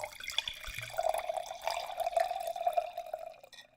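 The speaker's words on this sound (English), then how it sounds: "I'm pouring mine." Francis Coppola Claret Cabernet Sauvignon 2019 red wine glugs from the bottle into a glass, a close, gurgling pour lasting a few seconds with a rising trickling tone before it stops.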